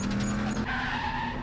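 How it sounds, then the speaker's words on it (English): A clown car skids while giving chase in a horror video game: a short, loud tire screech with a tonal squeal that shifts pitch midway, close and alone with no talking. "I'm literally being chased by a freaking clown car."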